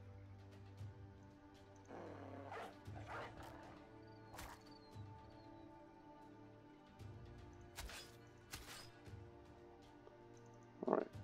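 War dogs bark in the video game Battle Brothers, a few short, fairly quiet barks and yips scattered among game battle sounds and low background music.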